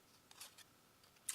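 Small scissors snip a paper tag for a junk journal, giving a few faint, quick, crisp cuts in a quiet room.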